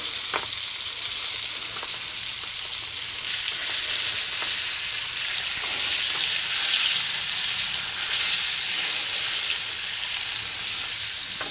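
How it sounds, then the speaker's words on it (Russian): Crucian carp of about 400 grams fry hard in spices in a pan at a riverside tent camp on the Volga, giving a steady, dense sizzle and crackle with occasional pops throughout, no talking. "Вот оно в специях, ребят, жарится"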